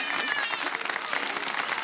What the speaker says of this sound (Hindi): तालियां तो बजा दें एक बार